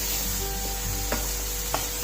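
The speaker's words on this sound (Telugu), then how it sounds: "మంచిగా కలుపుకుందాం, అంతా కలిసేటట్టు." Long beans masala curry with cooked black-eyed peas being stirred in a hot pan: soft steady sizzle with two brief scraping strokes of the spoon, close and alone.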